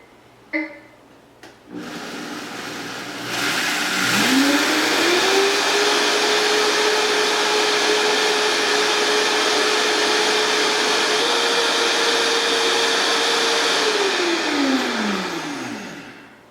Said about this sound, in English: any kind of high-powered blender like a Blendtec